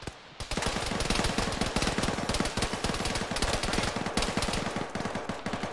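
Sustained automatic gunfire from the Arma military video game: rapid, loud, close bursts of machine-gun shots go on almost without a break after a brief quiet start.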